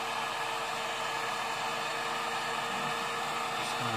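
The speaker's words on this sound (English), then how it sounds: "Turn on the heat gun." A heat gun running steadily, a close, loud, even roar of rushing air with no change in pitch or level throughout, used on a workbench while building an FPV mount for a Devo 7e transmitter.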